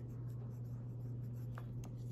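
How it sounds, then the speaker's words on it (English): A pen scratches a number onto paper in a few soft, quick strokes, faint and close against a steady low electrical hum. "I'm going to write that word in here"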